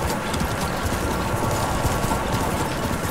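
Horse hooves galloping in Ghost of Tsushima, a steady, fast clip-clop that runs without a break, close and fairly loud with no talking.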